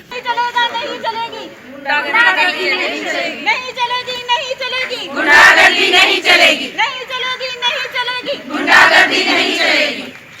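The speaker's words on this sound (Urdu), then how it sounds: "اسٹاف نرسز نے وی وانٹ جسٹس، نہیں چلے گی نہیں چلے گی، غنڈہ گردی کے نعرے بھی لگائے" Protesting staff nurses outside a district office chant slogans in unison, rhythmic crowd voices rising into louder shouted bursts, close and energetic, with overlapping chatter between chants.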